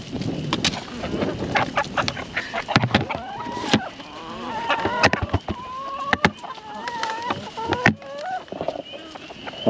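Chickens clucking and squawking close by as they peck at scattered grains, with busy overlapping calls, a few sharp knocks, and a voice talking to them now and then.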